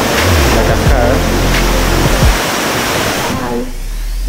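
A steady, loud rushing roar of a waterfall seen from a restaurant in Hakone runs the whole time, with faint voices briefly audible underneath.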